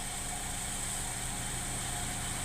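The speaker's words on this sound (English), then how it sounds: "You can see it's running rough." A 2010 Chevrolet Cobalt 2.2L four-cylinder with a five-speed runs rough with an evap system fault, its engine hum steady and low, faint under a constant high whine, with no talk.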